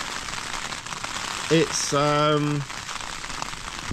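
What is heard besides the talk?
rain falling on a tent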